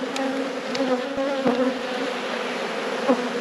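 Honeybees buzz at a hive during a late-season inspection, making a dense, continuous drone close by with individual bees passing near.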